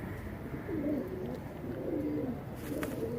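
Pigeons of mixed breeds coo in a loft, the low rolling calls rising twice in clear bursts and then a third time over a steady hum of background noise.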